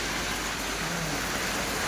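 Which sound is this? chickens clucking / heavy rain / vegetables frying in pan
heavy rain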